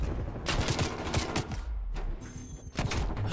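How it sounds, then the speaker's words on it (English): A Krig 6 rifle in a shooting video game fires in quick bursts, first a rattling volley, then a pause and a second cluster of close, punchy shots. "I fucking shot my gun."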